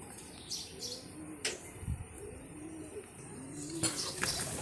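Domestic pigeons kept in pairs give repeated low, throaty coos close by, mixed with a few brief higher chirps and a faint flutter.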